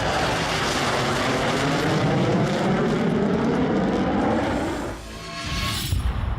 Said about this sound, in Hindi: 20 फाइटर जेट्स आसमान में एक साथ उड़े